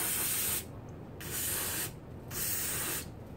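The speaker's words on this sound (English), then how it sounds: "spray the hole out" Three steady bursts of aerosol brake cleaner hiss loudly and close, sprayed into a hole in a 6-71 supercharger rotor, each lasting under a second, separated by short pauses.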